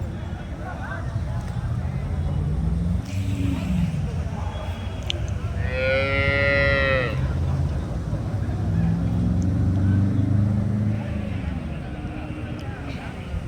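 A single drawn-out moo rises from Punganur cattle and calves crowded together at a cattle market, heard over a steady background of crowd noise and nearby voices.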